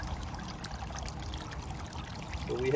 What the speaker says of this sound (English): So we have water flow.